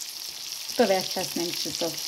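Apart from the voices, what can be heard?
cutlets frying in a pan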